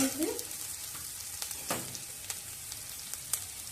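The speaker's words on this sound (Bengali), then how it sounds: "পেঁয়াজটা একটু ভেজে নেব পেঁয়াজটা একটুখানি ভেজে নিয়েছি" Onion frying in a pan for okra, a soft low sizzle under scattered clicks and scrapes of stirring, plus a brief faint voice-like sound at the very start.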